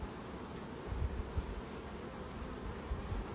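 Honey bees buzz in a faint, continuous drone during a hive inspection, with soft rustling and occasional light knocks close by.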